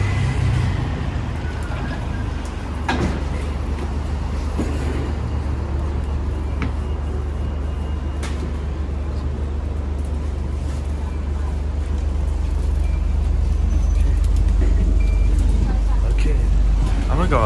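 Alexander Dennis Enviro400H MMC hybrid double-decker bus on London route 344, pulled up at a stop: a steady low engine rumble with street traffic around it, and people talking throughout.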